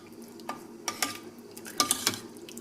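A spoon stirs toor dal in a pot, with several distinct wet scraping strokes and light clinks against the metal over a soft simmering background, close and clear.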